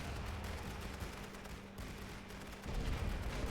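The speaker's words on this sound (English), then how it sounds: "2 machine guns opening up on him." Machine guns and artillery fire in The Great War: Western Front as a faint, steady clatter of rapid shots with low rumbling, swelling slightly toward the end.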